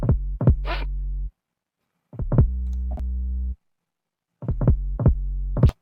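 Unequalized kick drum and 808 bass from a track, playing in three loud bursts of punchy kicks over booming, sustained low bass, with silent gaps between them.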